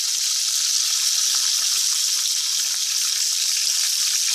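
Bulgur with seasonings cooking down in a pot, giving off a steady, close hiss of sizzling and bubbling that holds constant throughout, with no voices.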